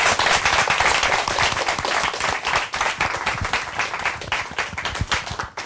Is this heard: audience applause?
yes